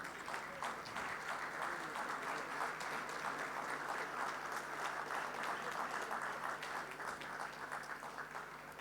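Audience applause at a presentation on new technologies in good agricultural practices, sustained, even clapping from a sizable room that stays level for several seconds without talk over it.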